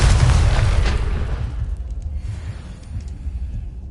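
A Confringo blasting spell explodes in Hogwarts Legacy, starting with a loud, deep boom that rumbles and fades over several seconds into a low tail.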